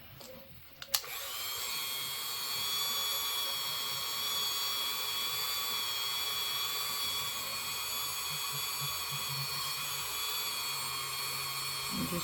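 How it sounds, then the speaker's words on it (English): A tiny drill whines steadily at high pitch for several seconds, boring through a small polymer clay bead, close up and alone with no talking. "I've got a really tiny drill on here"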